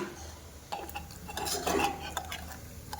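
Spoon stirring chili powder into goat liver in a metal pot, close scraping and clinking strokes with a few louder knocks, no talking.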